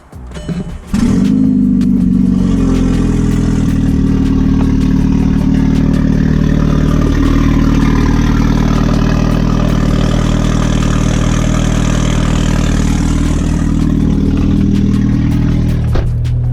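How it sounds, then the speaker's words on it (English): A 1989 Honda Prelude 4WS engine cold-starts with a brief crank, then settles into a loud, steady idle that runs unbroken close by, rough and boomy from a separated downpipe, with no talk over it. "I figured I'd show you guys what a cold start sounds like"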